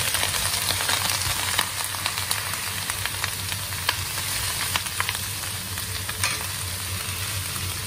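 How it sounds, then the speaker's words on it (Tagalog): Chicken feet fry in a pan for Chinese-style adobo, giving a steady, close sizzle with stirring scrapes and light clatters throughout, with no voices. "Next, ang ating chicken feet."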